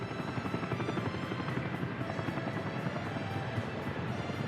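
Helicopters ferrying workers in the city-building game Workers & Resources: Soviet Republic, a steady rotor drone with a rapid thumping pulse held at an even volume throughout, with no talk.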